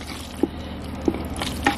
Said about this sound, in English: stir this in very well